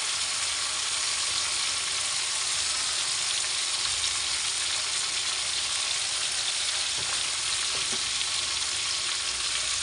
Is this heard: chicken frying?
yes